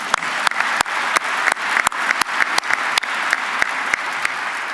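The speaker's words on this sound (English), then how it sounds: "We can clap for her too." An audience at the press conference introducing Will Wade as NC State basketball head coach applauds chief of staff Michelle Lee, with steady close clapping and some sharp individual claps standing out, and no talking over it.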